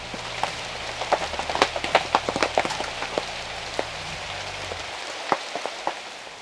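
Rain falls outside a hunting blind in Arkansas, with scattered sharp drops tapping irregularly on a nearby surface over a soft steady patter, thinning out toward the end.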